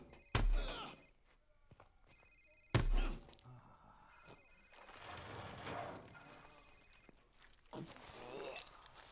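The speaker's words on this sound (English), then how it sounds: "Sir, it's his cell phone." A cell phone rings in a Call of Duty: Modern Warfare interrogation scene, with a few tonal rings set between two heavy thuds and some muffled scuffling. Voices speak faintly in places.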